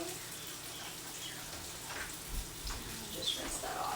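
Tap water runs steadily in a kitchen sink while something is rinsed off, a soft continuous hiss with small splashy surges, fairly close and moderately quiet.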